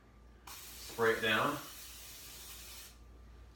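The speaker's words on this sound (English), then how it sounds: "So while that's heating up, I always get my olive oil spray" A can of olive oil spray hisses briefly into a frying pan in a home kitchen, a close, steady spray lasting a couple of seconds, with a short spoken phrase just before it.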